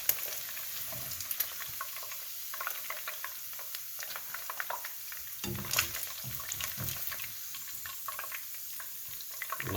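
Chicken pieces sizzle and crackle steadily in hot oil during a second deep fry for Korean spicy garlic chicken, with occasional stirring clinks and a louder bubbling flare partway through.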